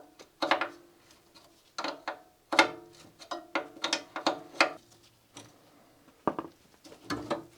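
Bolts being undone on a Citroen BX subframe, bursts of rapid ratchet clicking with metallic clinks and pauses between, close and fairly quiet, no talk.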